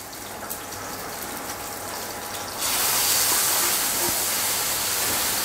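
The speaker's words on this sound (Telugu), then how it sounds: "ఇప్పుడు ముందుగా తీసి పెట్టుకున్న టమోటా ముక్కలు వేయాలి." Tomato pieces dropped into a hot pan with green chilli already frying burst into a loud, steady sizzle that jumps up partway through and holds as a continuous hiss, with no talking.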